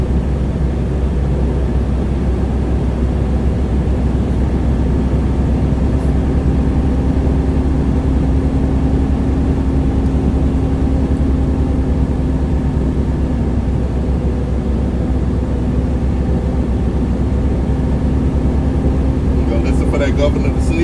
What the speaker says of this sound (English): now I'm gonna rev my engine up to 1400 RPMs to my air governor cut out between 120 and 140 psi